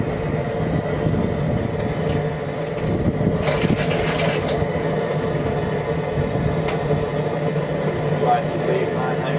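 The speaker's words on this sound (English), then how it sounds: "We're going to go ahead and take them out now and just hang them up and let them start" Boiled, waxed steel traps clank and rattle as they are hung up to dry, giving metallic knocks and a denser jangle of chains and jaws midway, with a voice present in the background.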